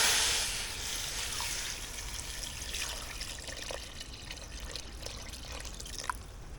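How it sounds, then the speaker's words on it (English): Water being poured into a pot of green crab shells and sea salt for stock, a steady close trickling and splashing that gradually settles, with a few small clinks. "Now we add our water."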